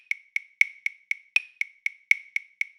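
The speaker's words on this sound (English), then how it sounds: "6/8 sounds like this" A run of evenly spaced sharp ticks at a brisk pace in 6/8 time, with accents every sixth beat and a lighter stress midway between, forming a two-group lilt.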